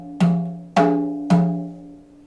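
Three evenly spaced strikes on a small drum, each giving a bright, high-pitched ringing tone that decays slowly before the next hit, close and clear with no talking.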